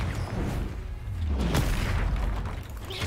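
A Confringo blasting spell goes off in the Hogwarts Legacy video game, a loud continuous boom and rumbling roar that swells and holds for about three seconds with whooshing texture.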